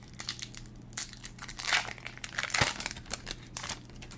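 Plastic foil wrapper of a trading card pack crinkling and tearing open, close and continuous with rustling bursts throughout, no talking.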